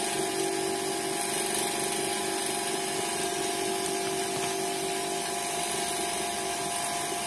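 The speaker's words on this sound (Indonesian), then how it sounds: "Kita berikan sedikit tekanan sampai pompa vakumnya ini berjalan ya, terjadi proses hisap" The vacuum pump of an LCD airbag laminating machine runs continuously, giving a loud, steady, unbroken whir with a sustained tonal hum and no voices.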